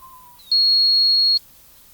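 Steady test tone from a Denon DRM-800A cassette deck: a faint low tone glides up into a loud, pure high beep that holds for nearly a second, then cuts off to quiet hiss.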